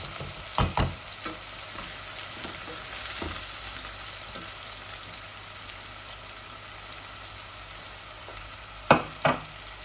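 Onions frying in a pan for a pangas fish curry give a steady soft sizzle, with a few sharp clinks and scrapes of stirring near the start and the end.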